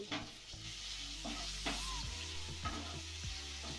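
Chopped onion, ginger-garlic paste and tomato fry quietly in a pan for a tangra fish curry, with a low sizzle, a few spoon knocks and scrapes, and a steady low hum beneath.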